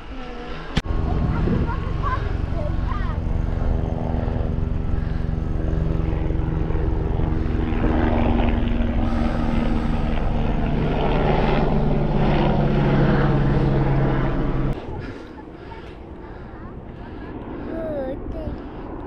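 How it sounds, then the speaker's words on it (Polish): Steady engine and rotor drone of a helicopter passing overhead near Lake Czorsztyn, loud and continuous for about fifteen seconds under wind noise and talk from cyclists, then cutting off sharply to a quieter tail. "Helikopter"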